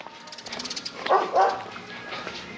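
A German shepherd barks a few times at middle distance outdoors on a roadside in the Philippines, the barks fairly faint under background hiss and traffic noise.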